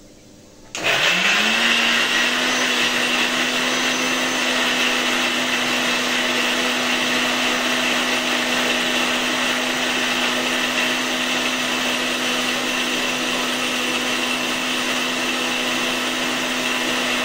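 A kitchen mixer grinder runs at full speed grinding a spice paste for chicken paturi, starting with a sudden jolt into a loud, steady whine that holds unbroken to the end, with no talk.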